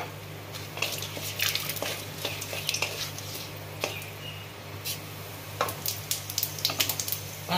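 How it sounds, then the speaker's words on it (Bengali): Whole dried red chillies and a bay leaf sizzle steadily in hot oil in a pan, a continuous crackling hiss broken by sharper pops and the occasional scrape of a utensil, with no speech. "তেল দিলাম, গোটা শুকনো লঙ্কা দিচ্ছি,"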